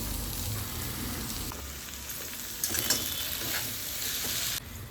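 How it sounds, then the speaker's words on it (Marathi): Field beans (val) sautéing in hot oil in a pan for a sattvik vegetable dish. A steady, close sizzle runs throughout, with stirring scrapes and a few louder spatters partway through. "आता वाल चांगली परतवून घेऊ."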